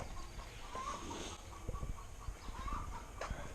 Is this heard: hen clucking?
yes